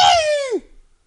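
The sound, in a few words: cat meowing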